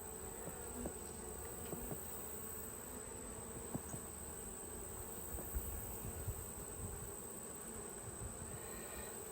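Honey bees drone steadily in an open hive during an inspection of a split colony, a faint, even buzz with occasional small clicks and knocks from handling the frames.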